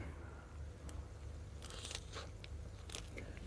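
Crisp bites and chewing of a nem nuong rice-paper wrap with cucumber, other vegetables and green banana, dipped in peanut sauce, a few close crunches standing out over a quiet, steady background.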